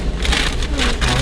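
Water jets spray over a car inside a drive-through car wash, a loud, dense hissing wash that pulses in waves across the moment.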